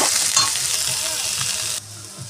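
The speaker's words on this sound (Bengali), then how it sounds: "বিনসটা দিয়ে ভালো করে তেলের সঙ্গে নেড়ে নেব।" Chopped beans and carrots stir-fried in oil, a close, continuous sizzle with rhythmic stirring scrapes, cutting off abruptly near the end.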